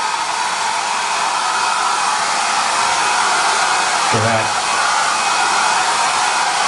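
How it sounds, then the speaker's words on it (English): A hair dryer blows steadily and loudly while drying paper, with a brief low bump partway through and a short spoken word. "using a hair dryer for 5 minutes."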